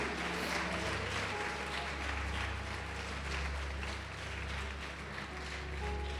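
A church congregation applauds during a sermon, a steady wash of clapping from a large crowd under a low hum, moderately faint and continuous throughout.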